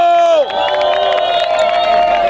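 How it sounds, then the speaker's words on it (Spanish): A crowd at a rap battle cheers and claps for the rapper Pepe Grillo, a dense, loud roar that holds steady after a sharp drop in a tone at the start. "Fuerte las palmas para Pepe Grillo"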